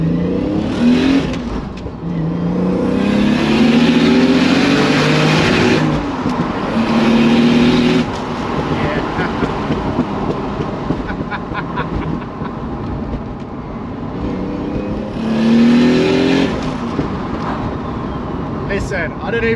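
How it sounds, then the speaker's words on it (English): Toyota Supra with a manual gearbox and single turbo engine, loud and close, repeatedly revving up through gears with rising drone and brief drops as the wastegate opens between pulls; talk is heard in the cabin. "When the wastegate opens on that turbo, oh my god, sounds absolutely sick."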